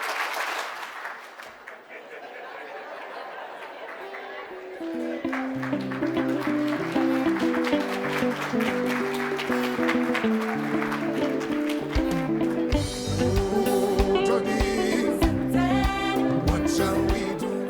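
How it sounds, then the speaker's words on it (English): An audience at a lecture on artificial intelligence in higher education applauds, steady clapping building and holding at moderate volume, with a few voices mixed in. "let us give him an AI round of applause"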